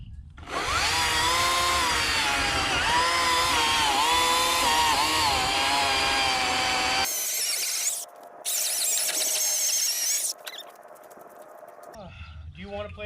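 An Atlas 80V battery chainsaw whines at high pitch through a long cut in storm-damaged wood, then cuts out, followed by brief bursts of revving and sharp noisy clatter.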